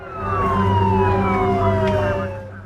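Ambulance siren rising and falling in a loud, close wail with descending sweeps, continuous across a couple of seconds over a low traffic hum.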